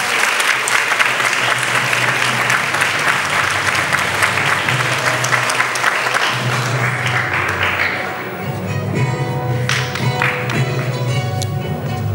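A school audience applauds at a year-end ceremony for third-year gymnasium classes, a dense, steady roar of many clapping hands that carries on for the whole stretch, easing slightly near the end.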